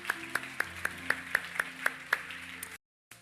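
A church congregation claps in a slow, regular rhythm of about nine evenly spaced claps with a low tone sustained underneath. The clapping stops abruptly into silence.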